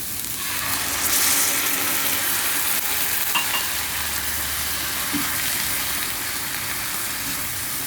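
Chicken and milk cook in a hot pan for a chicken bread patty filling, giving off a loud, continuous sizzle with faint stirring and no voices.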